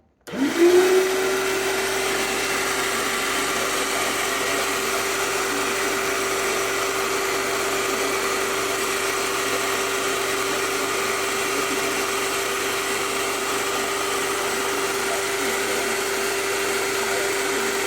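A Wagner HEA Control Pro 350 paint sprayer switches on and runs with a loud, steady motor hum and hiss. It spins up in the first second and then holds an unbroken drone throughout, with no talk.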